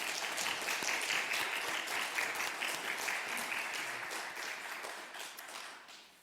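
A congregation applauds steadily during a Sunday church service in a reverberant hall, a dense wash of clapping that holds for several seconds, then fades out toward the end.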